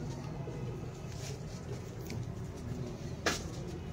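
A pigeon coos softly amid a low, noisy background, faint and somewhat distant, with a brief sharp click near the end.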